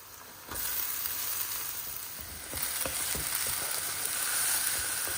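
Potatoes fry in a pan on high heat, a loud, dense sizzle that swells when they go in and keeps hissing steadily, with light stirring scrapes and no talking.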